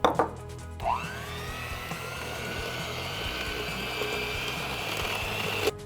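A blender whirs steadily, mixing deionized water into homemade lemonade pomade ingredients in a mixing bowl after a brief clatter at the start, running continuously and close.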